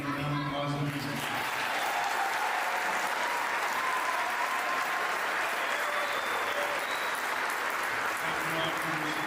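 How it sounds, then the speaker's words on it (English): A crowd applauds a Rock Creek High School varsity basketball player in Kansas, a dense, steady roar of clapping that fills the whole stretch at even loudness. "So if you want to give him a round of applause"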